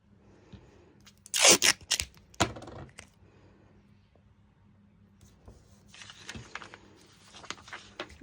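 Adhesive tape pulled off a roll and pressed onto fabric while sewing a twisted sporty top, with a loud tearing rip near the start, a few sharp handling clicks, then softer crinkly rustling of the tape close up, no talking.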